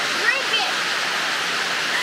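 Heavy rain pours at a campsite by a creek, a dense steady roar of water close by, with a voice speaking over it.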